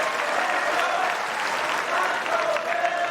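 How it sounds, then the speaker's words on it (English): A tennis crowd at the US Open applauding and cheering after a point, a dense, sustained roar of clapping with voices mixed in, steady and loud throughout. "He's got the crowd on his feet."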